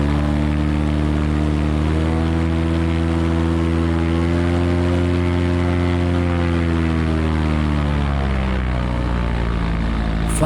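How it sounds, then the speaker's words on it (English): A GT500 light aircraft's propeller engine held at a loud, steady run-up, its droning harmonics rising and falling slightly in pitch throughout, with no voices over it. "Run up the engine and make sure everything's fine."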